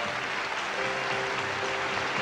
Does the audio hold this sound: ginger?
no